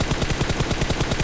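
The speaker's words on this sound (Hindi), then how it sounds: "अब यहाँ पे गाइस साइड से फायरिंग चली थी" Rapid automatic gunfire in an online shooter video game, a steady loud burst of evenly spaced shots filling the whole moment, with no talking.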